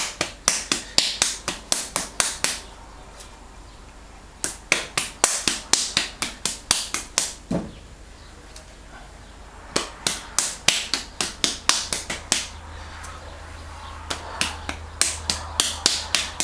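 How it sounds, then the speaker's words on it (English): Lumps of pottery clay smacked together by hand in quick bursts of sharp, slapping claps, several per second, with short pauses between runs and no talking. "I'm just smacking them together again a bit"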